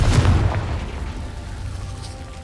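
Spell explosion from the Confringo curse in Hogwarts Legacy: a loud, deep booming burst at the start that rumbles and slowly fades, with no talk over it.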